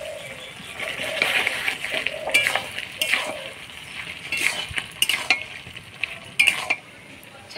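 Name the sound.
stirring chicken meat with garam masala in pan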